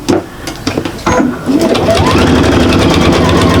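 A sewing machine stitches a seam on a fabric shopper bag, starting after a few short bursts and then running as a steady, continuous close hum.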